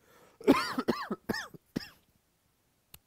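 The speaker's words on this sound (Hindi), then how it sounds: "बीच में खांसी वगैरह आ जा रही है" A person with a cold coughs about four or five times in a quick, harsh cluster, close and fairly loud, then falls silent apart from one tiny click.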